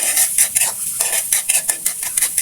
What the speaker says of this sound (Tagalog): Magigisa tayo mga sis.